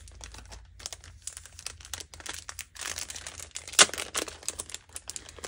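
Plastic packaging crinkles and rustles up close in irregular bursts, with sharper crackles and a loud crunch partway through as it is pulled open.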